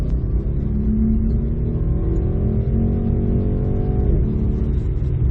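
The engine of a 2019 Mercedes-Benz E63 S AMG in sport mode revs and rises in pitch, a loud, close throaty growl that climbs steadily and then drops back, with no talking.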